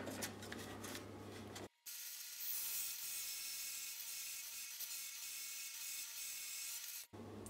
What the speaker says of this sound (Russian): мне коронка на 51 мм, она туповатая уже. Пилится довольно сложно и долго